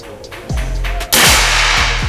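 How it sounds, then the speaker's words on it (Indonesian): A loud, sharp rifle shot cracks close by after a duller thump, its blast trailing into a noisy echo. "Kita akan lanjut lagi untuk tembakan yang ketiga."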